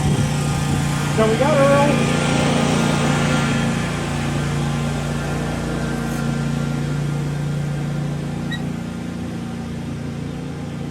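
A riding lawnmower passing by outdoors, its steady engine drone humming continuously at moderate distance throughout, with someone speaking briefly near the start.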